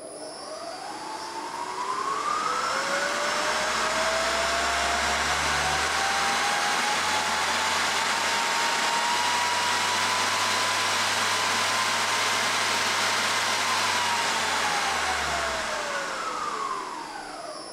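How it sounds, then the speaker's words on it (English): A CNC mill spindle motor whines as it spins up toward its maximum 3200 RPM, holds a steady high pitch, then winds back down. It stays fairly quiet and smooth. "this motor is incredibly quiet even when it is revving up to its max 3200 RPM"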